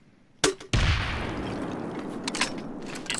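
A hip-fired M79 grenade launcher in Payday 2 goes off with a sharp close thump, followed by a loud, rumbling explosion that trails away over a few seconds, with a few smaller crackles near the end.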